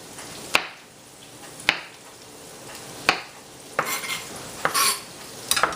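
Peppers being cut with a knife on a board for chunky spaghetti sauce, with several sharp, separate chopping strikes about a second apart, then a cluster of quicker scraping cuts, close by with no talking.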